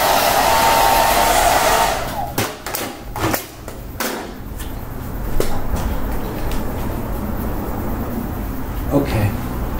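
Electric clippers shaving a person's head give off a loud, steady buzzing drone that dips briefly with a few knocks and shifts, then carries on as a continuous hum.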